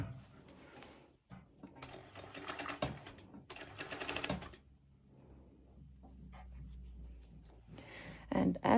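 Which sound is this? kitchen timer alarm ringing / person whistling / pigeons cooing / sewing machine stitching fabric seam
sewing machine stitching fabric seam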